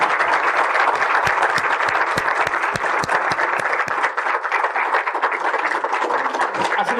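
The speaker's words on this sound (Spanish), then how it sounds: "claro, por favor, un aplauso." An audience applauds after a lecture on psychoanalysis, a dense, steady round of clapping from a large crowd that carries on without a break for several seconds, with no voices over it.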